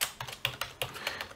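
Quick keystrokes on a computer keyboard, about seven or eight close, crisp clicks in a brisk uneven rhythm with no voice over them.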